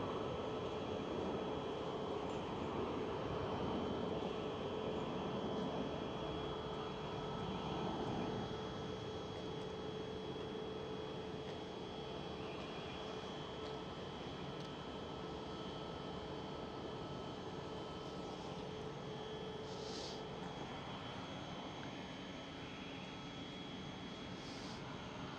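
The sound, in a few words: KLM Boeing 737-700 jet aircraft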